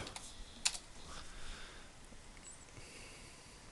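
Light, quick keystrokes on a computer keyboard, faint and close, forming a short run of soft clicks with one sharper tap early on.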